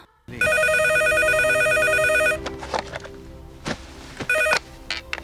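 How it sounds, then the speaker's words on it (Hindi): A telephone rings loudly in a steady repeating electronic trill, then stops; footsteps and handling noises follow, with one more short ring burst near the end. "गीता फोन उठाओ"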